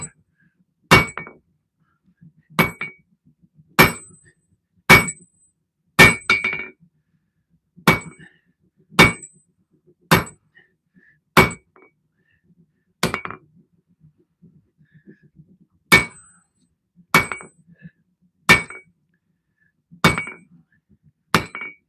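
A homemade power hammer pounds heavy knife steel in a steady run of sharp, ringing metallic strikes, roughly every second, with one brief pause midway before the blows resume.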